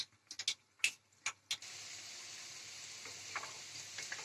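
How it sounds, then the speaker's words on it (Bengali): Chira puli pitha, flattened-rice dumplings, dropped one by one into hot oil: a few quick taps and splashes at first, then a steady, even hiss of frying oil that carries on close by, with no talking. "তেল আমার গরম হয়ে গেছে। এবার আমি একটা একটা করে পিঠে ছেড়ে দিচ্ছি।"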